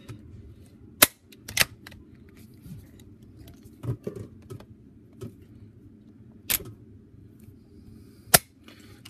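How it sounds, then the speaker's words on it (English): Action of a Marlin Model 37 shotgun being cycled, several sharp metallic clacks spaced apart with softer clicks and handling noises between them, close and alone. "maybe if I can get the camera to hold while I do it, it will cycle the gun"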